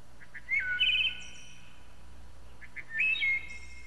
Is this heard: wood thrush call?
yes